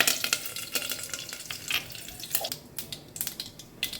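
Mustard seeds and curry leaves sizzle and crackle in hot oil in a pan, a close, continuous spitting hiss with brisk stirring scrapes and pops, and no talk.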